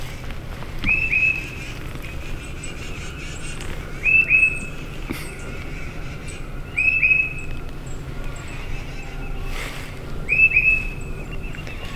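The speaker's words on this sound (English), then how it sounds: "The birds this morning are going crazy." Early-morning birds at a solo hammock camp call in short, clear whistled chirps repeating every few seconds, moderately distant over a quiet outdoor hush with faint background noise.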